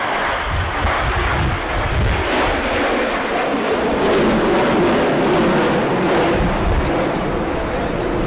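A jet aircraft roars through a low-level flying display at the 2011 Paris Air Show, a loud, continuous broadband rumble that swells and holds for several seconds, dominating the scene with wind buffeting and no voices.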